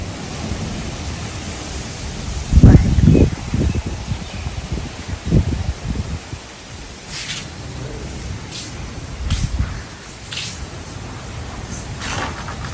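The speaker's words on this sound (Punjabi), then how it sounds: "ਬਹੁਤ ਤੇਜ਼ ਹਵਾ ਗਈ" Strong wind buffets and roars with heavy gusts, rumbling low and rising and falling over time, with no talking.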